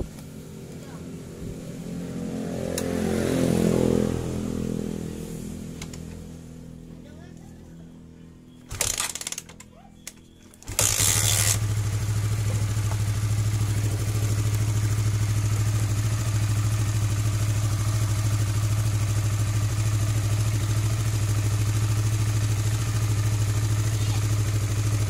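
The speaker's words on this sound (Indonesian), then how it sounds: "Oke, kita akan coba hidupkan dulu motor ini." A Honda CB150R motorcycle engine is heard: handling noise and a brief starter burst, then the engine catches and settles into a steady, close, loud idle hum that runs on unchanged for the rest of the recording.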